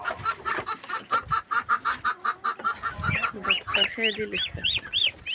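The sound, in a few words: domestic birds and ducks at feeding time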